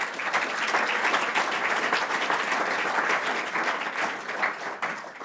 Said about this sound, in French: Donc, on va les applaudir quand même.